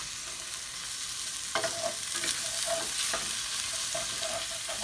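Vegetables and green onions stir-fry over high heat with a continuous sizzle, broken by scraping stirs and light clinks of a utensil against the pan, close and steady, no speech.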